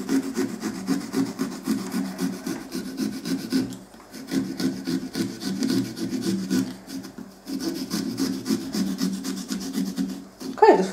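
A small pumpkin-carving saw rasps through pumpkin flesh while cutting out a moon shape, a steady back-and-forth sawing in three close bursts separated by brief pauses.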